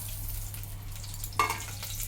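Whole cardamom, cloves, cinnamon and bay leaf hiss in hot oil for basmati rice pulao, a quiet steady frying sizzle with one sharper crackle burst partway through.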